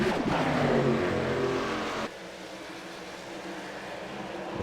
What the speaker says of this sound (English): Sound like somebody was pushing their clutch in and revving their motor through the corner.